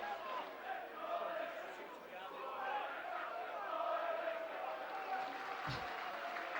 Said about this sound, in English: They're joining in with the Chester songs.